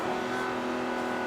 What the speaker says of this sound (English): We can hear a little bit of the engine in the background.